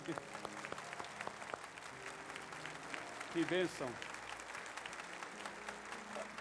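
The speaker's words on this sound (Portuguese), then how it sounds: "Uma salva de palmas para ele." Church congregation clapping after a baptism during a Wednesday service, a moderate, steady patter of applause with a brief spoken remark and background music.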